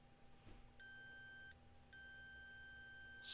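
Two clear, steady electronic beeps from an Elecraft K2 transceiver kit under construction, each a pure high tone, the first about three quarters of a second long and the second longer, over a faint hum.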